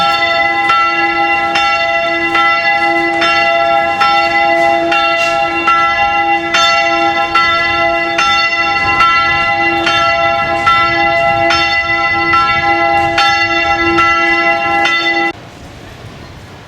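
A church bell in the bell tower at Les Invalides in Paris rings loudly and steadily, its tolls sustained and overlapping for a long stretch before stopping abruptly, leaving a quieter ambient hum.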